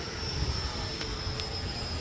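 An FMS BAE Hawk 80mm RC jet with an electric ducted fan flies at dusk, giving a steady, high whining rush with a thin tonal whine that stays at an even, moderate level throughout.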